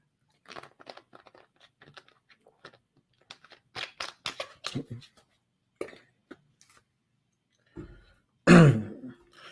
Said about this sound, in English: So now I'm coughing.